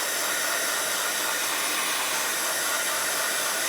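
Hair dryer blowing continuously at close range on watercolor paint, a loud, even rushing hiss with no break.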